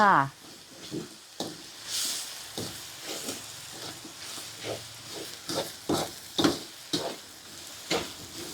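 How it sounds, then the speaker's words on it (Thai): Sugar and five-spice powder simmering in a pan for braised pork leg, with soft stirring scrapes and gentle sizzling, close and moderately loud, while someone talks over it. "เคี่ยวให้หอมๆให้น้ำตาลไหมสักหน่อยหนึ่ง"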